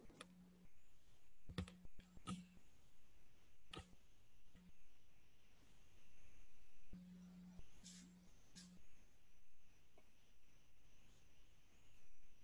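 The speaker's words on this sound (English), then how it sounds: "if anyone's typing, go ahead and finish typing" Faint, scattered keystrokes on a computer keyboard tap and click in short, irregular bursts with pauses between them during a quiet online lecture session.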